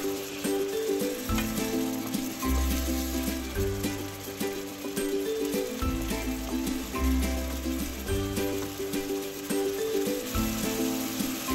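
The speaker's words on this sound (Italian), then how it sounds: "Sfumiamo con mezzo bicchiere di vino rosso e facciamo evaporare la parte alcolica" Red wine hits a hot pan to deglaze it during cooking of pasta alla Montecarlo, giving a steady, close sizzle with soft bubbling under a backing of music.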